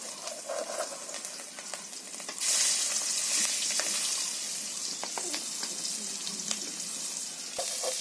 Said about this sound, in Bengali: তেল গরম হয়ে গিয়েছে, এবার মাছগুলো দিয়ে দিচ্ছি।